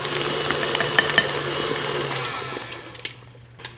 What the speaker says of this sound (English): Mostly it's just ricotta put in a mixer and like paddled a little bit.